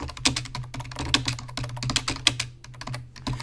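Fast, close typing on a computer keyboard: a dense run of crisp key clicks with a few heavier strokes, heard alone.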